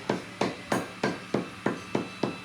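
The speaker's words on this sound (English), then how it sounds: "take the mallet and hammer this on as far as it'll go without really putting the works on it" A mallet drives a wooden handle onto a hand-forged Viking weapon with eight sharp, evenly spaced blows about a third of a second apart, close and crisp, each ringing briefly before the next.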